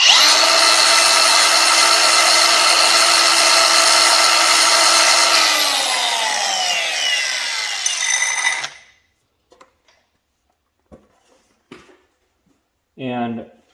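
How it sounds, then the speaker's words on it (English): A power grinder or Dremel tool grinding down the rivets of an ATV chain on a Yamaha Raptor, a loud steady high whine that winds down and stops, followed by a few faint clicks and a short burst of speech. "So get a grinder, Dremel tool, anything you want to use. All you have to do is just grind these two down."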